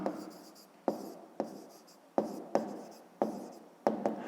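Pen on paper as an answer for a fifth-grade math exercise is written out by hand: soft scratchy strokes broken by several sharp taps, close and quiet.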